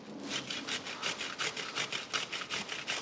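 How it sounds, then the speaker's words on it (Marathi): Cucumber being coarsely grated in a home kitchen, a steady run of about fourteen rhythmic rasping strokes, close and fairly loud, with no talking. "काकडी किसून घेऊ."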